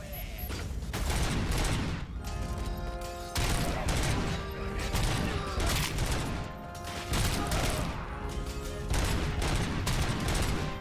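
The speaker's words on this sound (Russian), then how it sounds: "Стрельба достаточно прикольно сделана." Dense, loud bursts of automatic gunfire from the first-person shooter RoboCop: Rogue City, with repeated volleys and impacts rolling on almost without pause over backing music.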